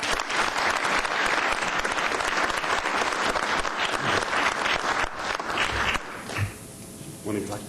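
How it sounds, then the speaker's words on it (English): Loud applause from an audience at a council meeting, dense clapping for about six seconds that ends abruptly, followed by brief quieter room sounds and a voice. "Let's give them a big round of applause."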